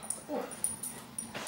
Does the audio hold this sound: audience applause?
no